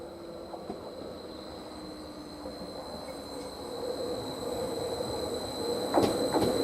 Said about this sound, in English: It's going to be the exact same train of what we saw earlier during the video, going towards Ipswich